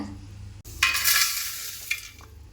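Asafoetida frying in hot oil for a vallarai pickle masala, a bright, steady sizzle that flares up after a brief gap and stays close and continuous, with a small stir or clink near the end.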